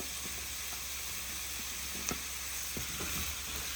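Tomatoes and a bell pepper frying in olive oil in a home kitchen pan, a steady close sizzle with a few scraping stir sounds partway through and no talking.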